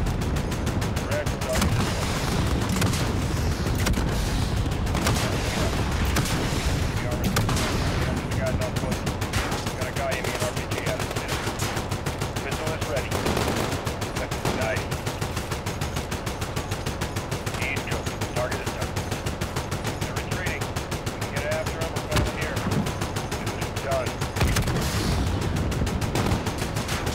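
Sustained gunfire during a Call of Duty campaign mission: heavy machine-gun and cannon fire rattling nonstop for nearly half a minute, loud and dense, mixed with radio chatter and booming impacts.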